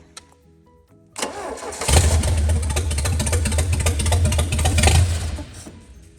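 A Mercruiser 3.0 boat engine with a freshly installed carburetor kit and a lingering carb issue cranks, catches and then runs at a loud, slightly uneven idle for several seconds before tapering off.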